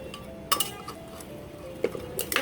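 Two pieces of fish head being stirred with a utensil in a pressure cooker pot, heard as a few quiet metallic clinks and scrapes against a soft background hum.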